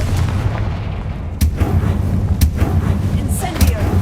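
Repeated explosive blasts from the Confringo fire spell in Hogwarts Legacy, sharp booms at irregular intervals over a dense, rumbling game soundscape.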